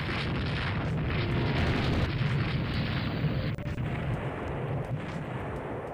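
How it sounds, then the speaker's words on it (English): Continuous rumbling naval battle din from the Rule the Waves 3 war game as torpedoes strike an armoured cruiser, a dense, loud wall of booming explosions and gunfire with no talking. "2 torpedoes into one of their armoured cruisers"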